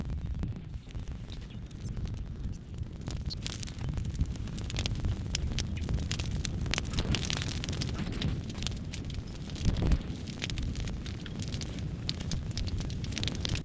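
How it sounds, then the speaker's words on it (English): A brush pile of Bradford pear limbs burns outdoors, giving a continuous low roar with scattered crackles and pops throughout and one louder snap near the end. "I repeated my successful process from attempt 3 and got the fire going again."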